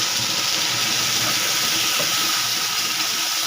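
Spice paste hitting hot oil with fried black cumin seeds while cooking potol bharta, a continuous, close, steady hiss of sizzling that barely changes in level throughout, with no voices.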